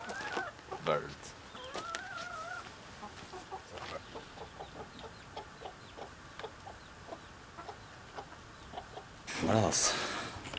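Chickens on a farm cluck in short, repeated calls at a moderate distance, with brief speech between them and a louder burst of noise near the end.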